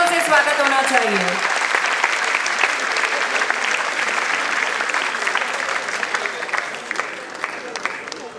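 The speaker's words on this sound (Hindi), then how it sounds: "जोरदार तालियों से स्वागत होना चाहिए।" Loud, sustained applause from an audience at an annual awards and graduation ceremony in Mumbai, with a voice over the start and continuous clapping filling the hall.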